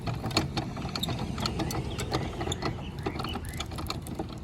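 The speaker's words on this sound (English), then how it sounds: "just putting the winding handle in, and you wind it clockwise to" Winding handle cranking a caravan stabiliser jack leg clockwise, giving a steady stream of close ratcheting, gear-like clicks throughout.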